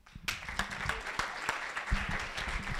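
A startup-pitch audience gives a round of applause at a weekend pitch event, dense clapping rising quickly and continuing steadily with scattered sharp individual claps, fairly close and moderately loud, no talking over it.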